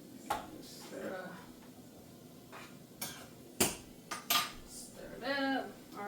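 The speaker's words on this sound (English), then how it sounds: "I'm going to do a little more mashing." Chickpeas being stirred and mashed in a pot give scattered metallic clinks and scraping knocks from a utensil, close and fairly faint, while a person talks in between.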